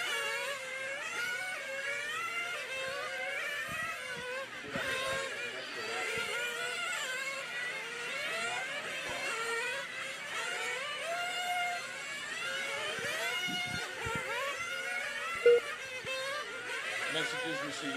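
Nitro-fuel on-road RC race cars scream around the track at a national race, several high-pitched engines whining and sweeping up and down continuously, layered together, with an announcer talking over them.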